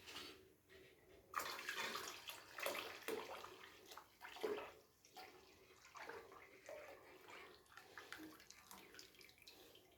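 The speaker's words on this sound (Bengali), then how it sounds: "ঠিক এই পর্যায়ে আমি এর মধ্যে ডাইরেক্ট দুধটা ঢেলে দেবো।" Milk is poured straight into lightly warmed water in a pan while making sandesh, a soft, continuous close-up pouring gush with faint bubbling and small fluctuations in flow, no voices.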